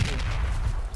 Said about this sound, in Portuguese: Tô vendo tiro muito perto daqui.